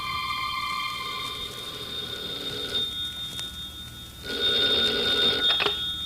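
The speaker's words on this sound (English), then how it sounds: "a telephone rang in a suite at the Hotel Vendôme in Paris" A telephone bell rings in a hotel suite at the Hotel Vendôme in Paris as a radio drama effect, sounding two clear bursts of ringing separated by a short pause, close and alone.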